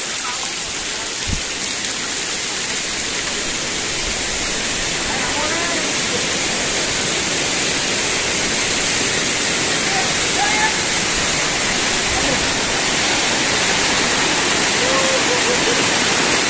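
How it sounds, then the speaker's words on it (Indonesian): Steady, loud broadband rush of a waterfall in a clear blue-water setting near a cave in Lumajang, continuous throughout with no break. "Kita melewati air terjun."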